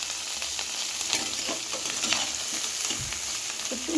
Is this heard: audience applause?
no